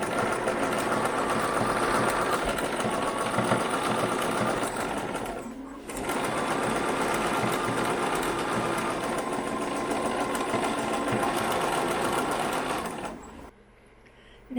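Sewing machine running steadily as it stitches the hem on both front pieces and the back of a garment, a continuous loud whir with a brief pause near six seconds and stopping near the end.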